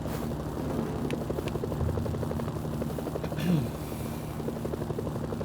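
A helicopter in the video game Mercenaries: Playground of Destruction drones steadily with a rapid, even rotor thump and engine buzz, continuous and moderately loud throughout, with a brief swell near the end.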